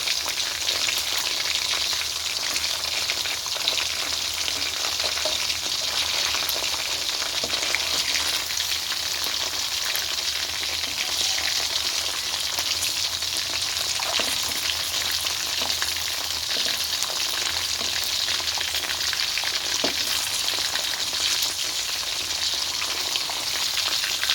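Chicken pieces deep frying in a wok of hot oil give a steady, dense crackling sizzle that carries on evenly throughout, close and unbroken.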